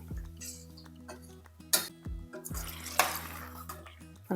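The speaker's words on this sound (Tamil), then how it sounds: "இப்போ இதுக்கு தேவையான அளவுக்கு தண்ணி ஊற்றிடலாம்" Water is poured into a pan of eggplant and tomato gravy amid clinking of metal pots and utensils, sharp knocks and splashes in bursts, close by, with no speech.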